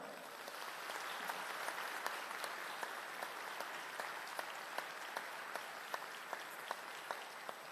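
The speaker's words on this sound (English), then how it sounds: "let's give the best applause you have ever given" A diploma ceremony audience gives steady, fairly faint applause, an even wash of many hands clapping at a distance with occasional sharper claps rising above it.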